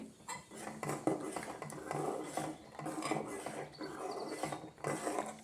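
A spoon stirs a thickening breakfast mixture in a pot after a quarter cup of hot milk goes in, giving steady, close metallic scraping and clinking against the pan, continuous and fairly loud with no talk.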